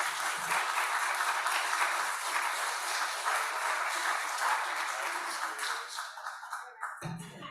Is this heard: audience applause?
yes